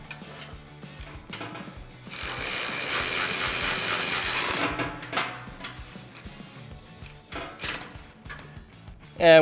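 A ratchet drives a 17mm nut onto a bolt holding a Barricade 3 in. bull bar on a 2016-2023 Toyota Tacoma, giving steady close clicking with a dense stretch of rapid ratcheting in the middle and some clunks of tool handling.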